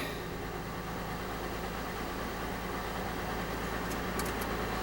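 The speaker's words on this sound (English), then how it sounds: "Doesn't seem like she's idling nearly as rough as she was before." A car engine idles steadily with a low, even rumble after being repaired, close and continuous, with no voices.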